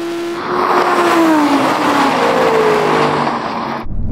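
A 2015 Audi R8 launches hard in a drag race. Its engine roars loud and close, pitch climbing through the gears with a faint tire squeal, then cuts off abruptly.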